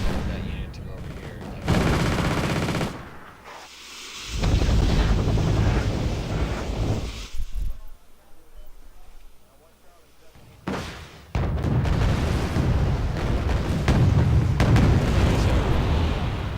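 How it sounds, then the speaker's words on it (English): A tank battle in the war game Wargame Red Dragon, with loud bursts of gunfire and heavy explosions coming in waves, broken by quieter gaps, and a voice talking over parts of it. "nice little interesting field tank battle there"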